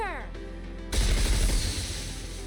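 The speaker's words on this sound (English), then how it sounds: "A volley of missiles is launched." A volley of missiles launches at a charging horde of predators: after a brief rising tonal sweep, a sudden loud, dense burst of booming, rattling blasts erupts and rumbles on steadily to the end.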